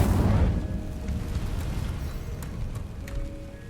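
The Incendio fire spell cast in the video game Hogwarts Legacy bursts out as a loud, rumbling whoosh of flame. It settles into a dense, crackling roar that slowly fades, with a few small pops, and no voice is heard.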